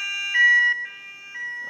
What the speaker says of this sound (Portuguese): Então ele alarmou tanto as sirenes wireless e a gente colocou também para alarmar tanto a sirene convencional